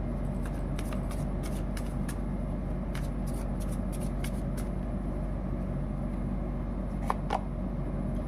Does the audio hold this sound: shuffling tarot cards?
yes